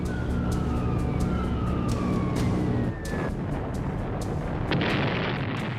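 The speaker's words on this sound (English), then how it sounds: "US bombers flying low over Tokyo dropped bombs on the city close to the Emperor's Palace." Bombs explode in Tokyo during the 1942 US bomber raid, with a falling wail, heavy rumbling blasts and sharp repeated cracks filling the whole span loudly.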